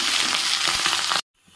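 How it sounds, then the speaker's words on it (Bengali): Cooked rice hits hot white oil with cumin seeds in a wok and gives a loud, crackling sizzle close by, then stops suddenly into near silence. "কড়াইয়ে সাদা তেল দিয়ে দিয়েছি, দিয়ে একটু জিরা ফোড়ন দিয়ে দিয়েছি। এবারে তৈরি করা ভাতটা দিয়ে দিচ্ছি"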